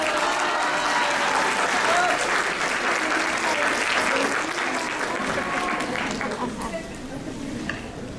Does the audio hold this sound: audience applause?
yes